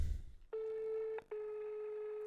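A telephone line tone plays before the call is answered: two long, steady electronic tones separated by a brief gap, clear and fairly loud, with no talk.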